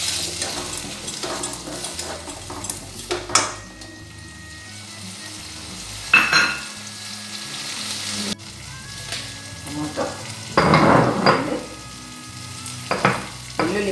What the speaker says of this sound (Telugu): కరివేపాకు ఉల్లిపాయ మగ్గిపోయింది టమోటా కొంచెం బాగా మగ్గాలి